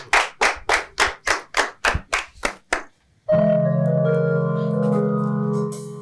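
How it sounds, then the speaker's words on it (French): Audience hands clapping for a performer at a live show: about ten loud, evenly spaced claps in a steady rhythm, then a sudden sustained tonal musical sound takes over. "on l'applaudit pour sa prestation"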